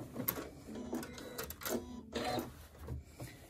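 A sewing machine basting straps onto the edges of a crossbody bag panel, close mechanical stitching in short bursts with brief pauses between runs.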